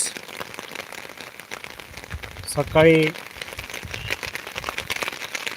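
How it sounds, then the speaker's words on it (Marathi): Heavy monsoon rain pours down in Beed during flooding, a dense continuous hiss of drops on surfaces throughout, with a voice speaking briefly and a short louder burst midway. "दहाच्या नंतर जी पाऊस सुरू झालेला आहे तो सारखं वाढत चाललेला आहे"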